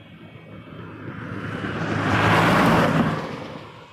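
A Jazz Dash 8 turboprop lands at Ottawa airport, its broad engine roar swelling as it passes close, peaking midway and then easing off, with no voices.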